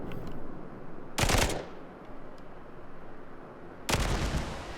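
Battleship secondary guns in World of Warships fire in two sharp, loud booms a few seconds apart over constant engine and sea rumble, with no talking.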